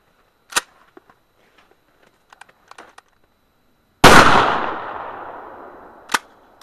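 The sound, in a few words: shotgun firing Remington high brass rifled slug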